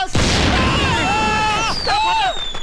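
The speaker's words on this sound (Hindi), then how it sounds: "बाहर बाराती पटाखे फोड़ रहे हैं।" Firecrackers set off outside by a wedding procession: a dense burst of bangs followed by a voice with music-like tonal sounds over rumbling noise.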